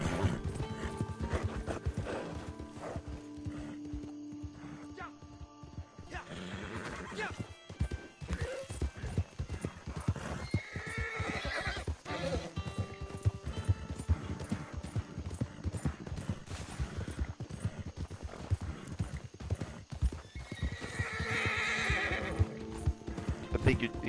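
Horse hooves clip-clopping steadily alongside repeated neighs and whinnies in the Red Dead Online game, with a person talking over the hoofbeats throughout.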